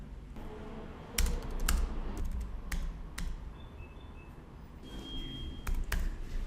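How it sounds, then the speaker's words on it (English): Typing on a computer keyboard, with irregular bursts of sharp, close key clicks separated by short pauses and a quiet room underneath. "To add content, you just type straight into the browser."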